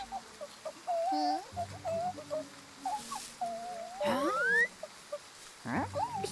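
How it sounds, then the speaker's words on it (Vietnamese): Small birds chirp and twitter in bright, squeaky calls, several voices overlapping in quick phrases across the scene. "Là một đàn chim nhỏ."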